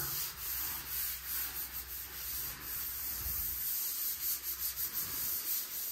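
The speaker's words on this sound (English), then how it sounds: "So I'm just gonna agitate it, let it well for about 20 minutes then scrub it again" Scrubbing brush agitates cleaner on a surface during shower and floor cleaning, a close, continuous rough rubbing with uneven back-and-forth strokes.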